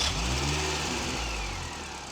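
A Mini Cooper S R53 with an induction kit fitted gives a short, steady engine rev, a loud mid-pitched drone that eases off slightly toward the end, with no talking.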